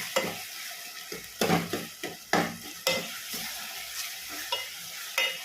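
Onion and tomato sauté in a pan as the base for a prawn curry, with a soft sizzle under repeated brisk stirring strokes, several distinct scrapes in an uneven rhythm, close and clear.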